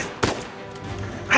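A gunshot in the Uncharted 4 action game: a single sharp crack early on, followed by a short burst of noise at the end over quiet background ambience.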